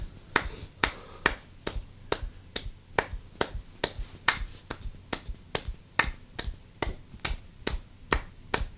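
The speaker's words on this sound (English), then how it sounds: "Roarious, thunderous applause." Crisp finger snaps stand in for applause, sharp and close, coming in a loose, slightly uneven rhythm about two per second, with no other sound between them.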